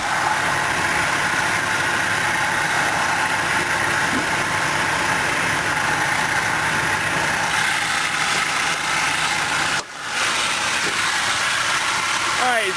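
A 2006 Dodge Durango Limited's 5.7-liter HEMI V8 idles steadily, a continuous low engine rumble heard close up for the whole stretch, with a brief dip near the end.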